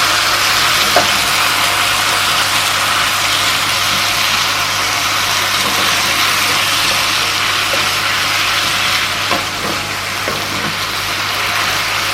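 Chicken with ginger and wood ear mushrooms stir-fries over high heat, giving a loud, steady sizzle with a few faint clinks of a spatula against the pan and no talking.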